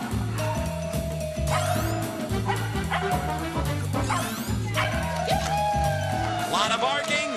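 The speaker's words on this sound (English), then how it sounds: "Lot of barking, lot of excellent competition." Several dogs bark and yip excitedly during a competition over a loud, steady musical backing, with barks overlapping in quick bursts throughout.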